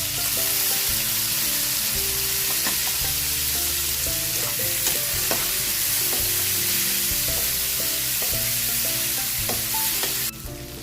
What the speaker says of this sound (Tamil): வெங்காயம் கொஞ்சம் நல்லா வதங்கணும்